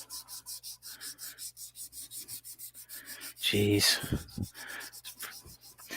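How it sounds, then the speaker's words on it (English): Steady rhythmic rasping of sandpaper on wood during wood turning, stroke after stroke, close up, with a brief louder clatter midway and a short exclamation. "There's a lot of sanding involved in wood turning."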